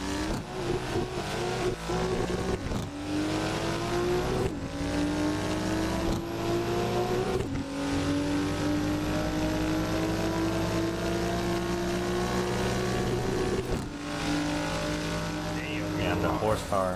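In the Assetto Corsa racing game, an 883 hp MK4 Supra and a C63S AMG race on the Lakeside GP track. Loud, continuous engine roar climbs and drops through repeated gear shifts, with voices talking over it.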